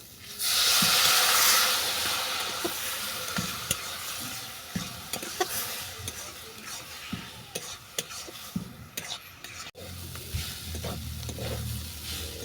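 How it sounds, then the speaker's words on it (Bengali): Semolina and vegetables cook in a pan as a little water is added, giving a loud initial hiss and steam that settles into steady sizzling with stirring scrapes and no talking. "এরপর আমি অল্প করে জল দেবো"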